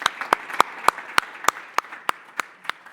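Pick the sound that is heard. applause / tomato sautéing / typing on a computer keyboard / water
applause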